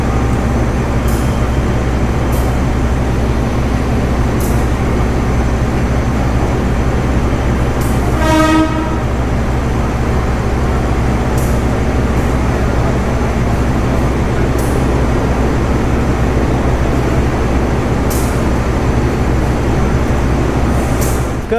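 A diesel locomotive pulling a passenger train rumbles past steadily and loudly at night, with a short horn blast sounding once partway through over the continuous rolling noise.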